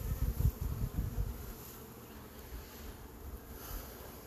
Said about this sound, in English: Carniolans. It's been a busy hive all year.